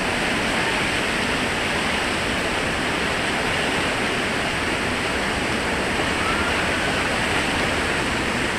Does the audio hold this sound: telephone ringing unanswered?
no